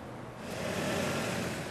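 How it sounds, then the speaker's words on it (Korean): A car rolls into a home yard at night, its low engine hum swelling slightly as it draws near, faint and steady with no one speaking. "낯익은 차 소리와 함께 사위가 돌아왔습니다"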